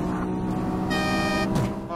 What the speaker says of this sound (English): Honk at me, will you?